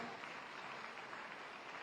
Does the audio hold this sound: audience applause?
yes